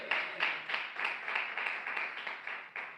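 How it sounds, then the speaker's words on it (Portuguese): A church congregation claps for Jesus in a steady rhythmic beat, about ten even claps in three seconds, moderately loud and close with no talking. "Palmas de vitórias para Jesus de Nazaré"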